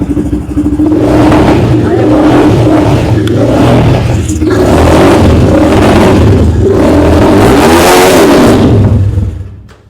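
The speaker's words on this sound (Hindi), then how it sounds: "रेनिगेड कमांडो कहलाती है, 300 सीसी बाइक है ये।" A Renegade Commando 300cc motorcycle, an American brand imported from China, runs close by with its engine revving loudly in repeated surges that fade away at the end.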